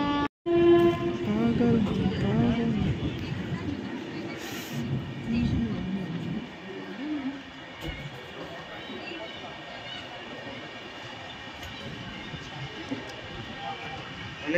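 A passenger train running between Kolkata and Prayagraj passes close by: a loud horn at the start, then heavy rolling rumble and wheel clatter that gradually eases.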